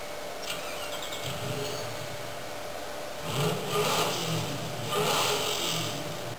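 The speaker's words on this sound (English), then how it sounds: "And start the engine." A car engine in the Forza 4 racing game starts up and revs, with two louder surges rising over a steady mid-level engine drone; no talking.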